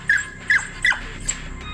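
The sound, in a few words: dog barking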